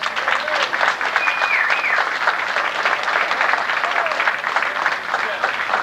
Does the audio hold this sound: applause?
yes